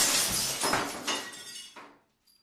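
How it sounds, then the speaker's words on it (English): A bright crash of glass breaking, loud and close, with scattering shards that ring briefly before fading into silence. "The fire just reached my throat when I heard a shatter."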